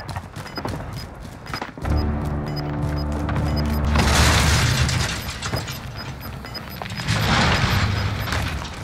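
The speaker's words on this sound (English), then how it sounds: "Enemy precision airstrike" Precision airstrike explosions in Call of Duty Modern Warfare, deep rumbling booms rolling in one after another for several seconds, with heavy blasts near the middle and end over a steady battlefield background.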